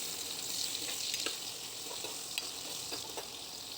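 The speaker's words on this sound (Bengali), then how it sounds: "কড়াতে তেল দিয়ে এতে পনিরগুলো হালকা হালকা করে ভেজে নেব।" Paneer fries lightly in oil in a wok, giving a steady close sizzle with faint scattered crackles and no voices.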